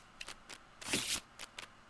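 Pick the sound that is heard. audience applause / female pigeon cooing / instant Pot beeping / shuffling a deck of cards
shuffling a deck of cards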